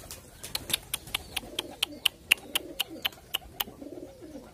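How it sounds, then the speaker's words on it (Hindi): Pigeons perched at a home loft coo in soft low murmurs, mixed with a steady run of sharp, evenly spaced clicks that fall about every quarter second, near and clear against quiet surroundings. "ये देखिए भाई कुछ कबूतर ना अपने उधर बैठ रहे"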